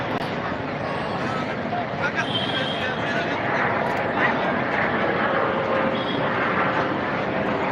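Steady engine drone of a helicopter flying overhead, loud and continuous throughout, with faint crowd murmur underneath.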